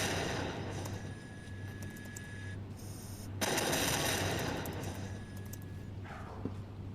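Airship-mounted turrets fire in Batman: Arkham Knight, a sustained, dense rattle of gunfire that swells louder partway through, with no speech.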